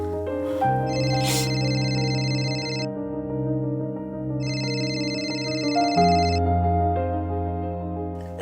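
An electronic phone ringtone chimes in two bursts over a steady tonal musical backdrop, fairly loud and close.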